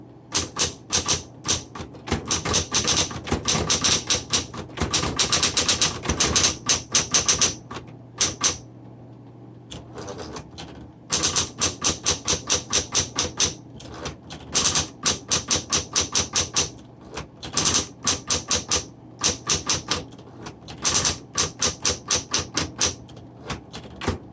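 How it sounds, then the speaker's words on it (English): Rapid bursts of keystrokes from a 1960s Smith Corona Coronet Electric 10 typewriter with manual return, loud and close, typed in quick runs with one short pause midway; a steady electric motor hum sits underneath. "And then let's start typing."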